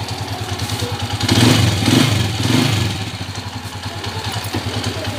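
A Honda TMX 155 motorcycle converted to a 5-speed transmission runs nearby with a steady, throbbing mid-pitched idle, briefly swelling in a few light revs before settling back.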